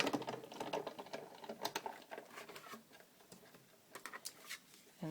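A die cutting machine feeds a petite purse die through between cutting pads, giving a close, irregular run of small clicks and ticks like rapid tapping, with no one talking.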